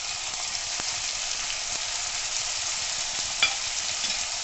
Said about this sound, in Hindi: इसको भी हम 1 मिनट तक इस तरह से भूंजेंगे।